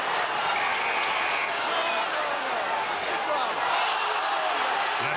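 A rugby crowd at Stradey Park roars steadily at a Llanelli against Leicester match, a dense, continuous wall of cheering and shouting that swells slightly near the end.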